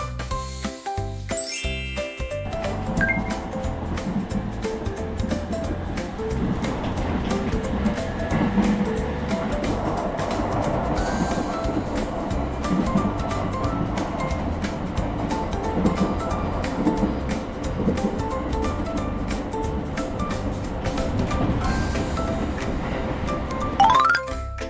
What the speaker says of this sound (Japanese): 営団9000系電車。